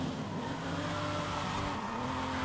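Drifting car in the Forza Horizon 5 racing game, City Focus seasonal championship street race, with a steady engine drone and a sustained tire squeal running throughout, loud and close.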